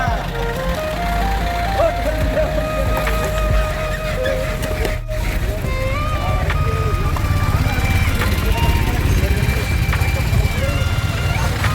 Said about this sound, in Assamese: গাড়ীগিলা পাৰ হৈছে এতিয়া